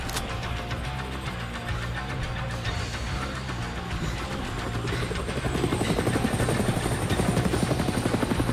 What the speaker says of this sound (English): Got a high-tech anti-reality helicopter there.